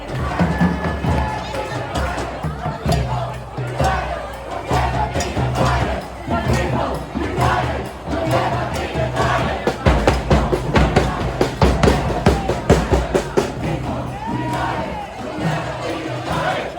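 A crowd of marchers roars and chants as they move through a shopping mall. Loud massed shouting and cheering carries throughout in rhythmic surges, with thumps and footsteps underneath.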